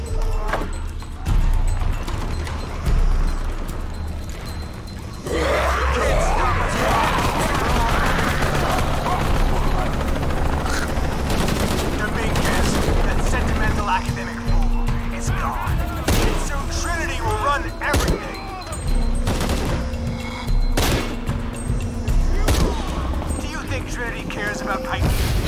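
Video game gunfire in bursts of shots and crashes over a dense, loud backdrop of game sound, with a person talking intermittently over the action.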